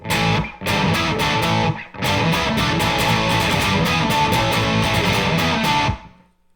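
Heavily distorted electric guitar plays a loud, driving intro riff, with brief gaps between phrases, then rings out and stops.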